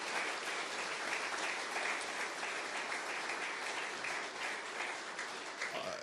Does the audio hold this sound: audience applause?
yes